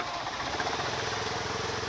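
A motorcycle engine idles steadily at close range for two seconds, its even, rapid chugging continuous and free of any talk.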